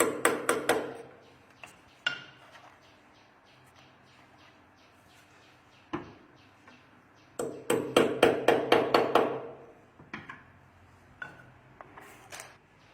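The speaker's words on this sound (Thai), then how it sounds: "ก่อนอื่นเลยผมจะมาร์กตำแหน่งเจาะด้วยตะปูคอนกรีตครับ" A concrete nail is hammered to mark a drilling spot while installing a sink cabinet door, with sharp metallic strikes in quick bursts, an opening flurry, scattered single blows, then a rapid run of about eight close, loud hits.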